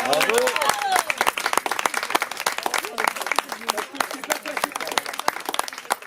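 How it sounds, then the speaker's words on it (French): A crowd at a slam poetry evening in Vence, France applauds loudly and steadily, dense clapping that gradually thins out, with a voice briefly audible at the start. "Donc on applaudit encore très fort."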